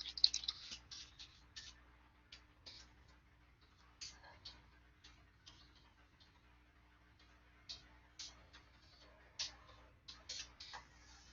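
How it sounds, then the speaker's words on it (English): Keyboard typing during an online economics statistics class review, with quiet, irregular clusters of key clicks at low level over a faint steady hum, no talking. "let me type it in"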